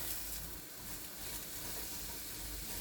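Vegetables gently sautéing in a pan over medium-low heat, giving a steady soft sizzle and hiss that runs evenly throughout without browning crackle, no voices.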